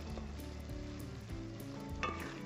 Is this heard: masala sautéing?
yes